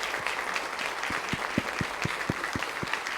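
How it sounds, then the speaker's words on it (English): At a parents' council meeting, a room claps in recognition, a steady wash of applause with a regular thump of heavier claps standing out near by. "join me in giving them a big round of applause"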